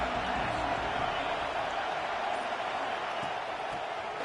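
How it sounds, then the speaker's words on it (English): A large football stadium crowd cheers in a dense, continuous roar that stays loud and even throughout, with no break. "This crowd ready to make its presence known."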